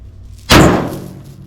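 A metal panel coated in Rust-Oleum Turbo spray paint and 2K clear takes a single hard hit meant to dent it. A sharp, loud slam lands and its thudding ring fades out quickly.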